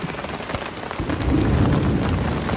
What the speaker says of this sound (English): Little thunder clapping there.